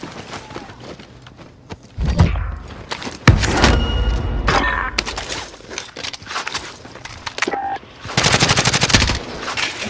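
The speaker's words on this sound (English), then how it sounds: "I'm taking fire." Call of Duty Warzone gunfire rattles out in loud, close bursts of rapid automatic shots, broken by short pauses, with several separate volleys and a dense final string of fire.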